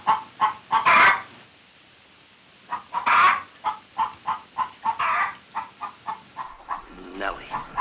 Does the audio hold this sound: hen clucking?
yes